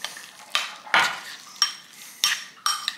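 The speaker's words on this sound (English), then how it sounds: "Get your fucking oatmeal stirred." Oatmeal being stirred in a bowl with a utensil, giving about six sharp, regular scraping knocks roughly half a second apart, close and fairly loud, with no talk.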